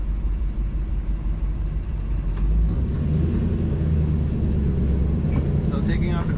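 A 1940 Ford Deluxe convertible pulls away in high gear, its engine giving a steady, deep rumble that swells a little as the car gathers speed, with a voice talking over it throughout.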